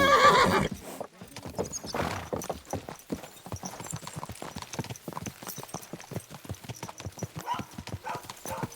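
In Kingdom Come: Deliverance II, a medieval video game, a horse gives a loud whinny at the start, then its hooves clip-clop in a steady trotting rhythm that continues to the end.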